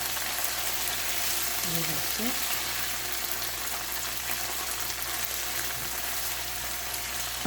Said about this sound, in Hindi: फिर हम इसमें अदरक लहसुन की पेस्ट भी डाल देंगे ताकि वो भी साथ भून लें